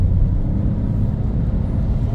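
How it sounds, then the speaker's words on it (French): Toyota Yaris hybrid (HSD) accelerating hard in power mode, heard from inside the cabin as a steady, loud low rumble of engine and road noise with no talking. "je fais une accélération mode power"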